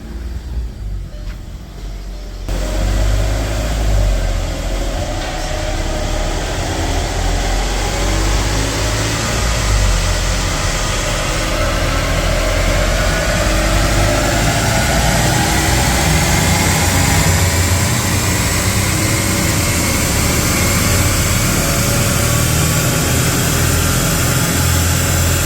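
VW Polo 1.2 TDI Bluemotion diesel with a DPF fault on a dyno, engine droning loud and continuous as it pulls through a power run after a brief quieter start.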